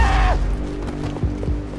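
A short, high scream from a video game character rings out loudly at the very start and cuts off abruptly, followed by a few dull thumps and clatters.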